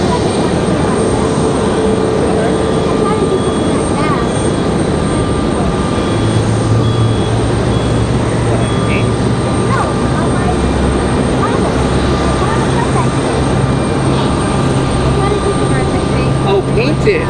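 A United Boeing 737 MAX airliner in old livery roars steadily at an airport, a loud continuous jet rumble with voices talking over it.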